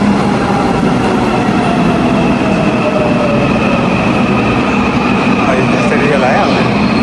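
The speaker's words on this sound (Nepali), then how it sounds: "त्यसरी रेल आयो।" A train pulls into a station in Korea with a loud, continuous rumble of wheels on rails, faint squealing tones drifting over the steady roar for the whole stretch.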